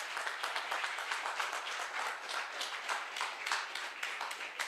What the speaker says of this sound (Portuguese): Um aplauso para o movimento